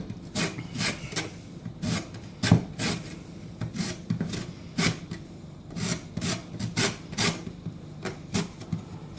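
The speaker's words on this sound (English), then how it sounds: "I'm only trying to get the yellow part of the zest, okay?" Citrus zest grated by hand for spaghetti and meatballs, a steady run of short, close rasping strokes, each a quick scratchy burst, repeating in an uneven rhythm with no talking.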